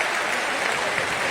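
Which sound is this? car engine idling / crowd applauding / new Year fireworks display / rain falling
crowd applauding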